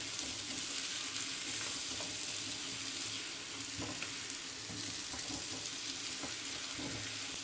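Potatoes frying with garlic and carrots in a pan, giving a steady, dense sizzle throughout, with faint scraping of a spoon as the mixture is stirred together.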